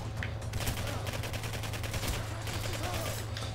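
Rapid gunfire in the video game Singularity, a dense, continuous burst of shots that stays loud and steady the whole time with no break.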